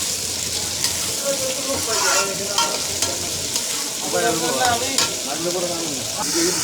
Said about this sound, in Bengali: আপনাদের ভেজিটেবলগুলো দিতে হবে কড়াইয়ের ভিতর। ভালো করে 5 মিনিট নাড়াচাড়ার পর